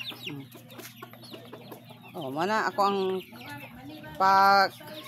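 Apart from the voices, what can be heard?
chickens clucking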